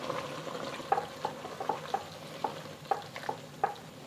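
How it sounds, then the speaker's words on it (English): A braising liquid with oyster sauce and Shaoxing wine is stirred for Lion's Head meatballs, bringing a soft bubbling simmer punctuated by regular light clicks of a utensil against the pot. "1 tablespoon of Shaoxing wine. Just give this a stir."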